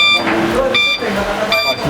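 An e-bike's parking sensor sounds a repeated electronic beeping in short bursts at a steady pace, with a person talking quietly underneath.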